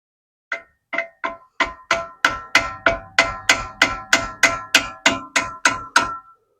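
About seventeen sharp hammer blows on metal, struck in a steady rhythm and growing slightly louder, close by, driving a stuck rear axle seal on a 2008 Ford Mustang.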